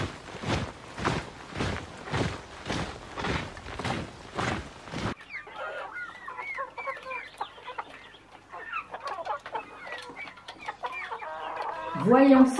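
A hen clucks in quick repeated bursts close by for several seconds, then softer scattered clucks and chick-like peeps continue at a lower level.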